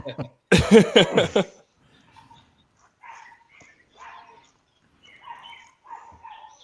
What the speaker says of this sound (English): Some little doggy is not happy.